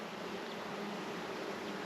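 Honey bees buzzing around an open beehive frame, a steady, fairly faint drone of many insects with no voices over it.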